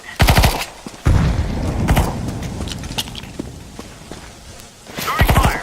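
Gunfire in a shooter video game: sharp bursts of rapid shots open and close the stretch, with a heavy blast near the start and a dense rumble of fighting and footsteps in between, loud and close.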